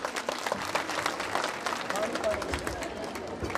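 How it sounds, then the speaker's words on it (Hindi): Loud, dense clapping from a crowd at a women's blessing festival in India, filling the whole moment with steady broadband noise while voices murmur underneath. "जोरदार तालियां।"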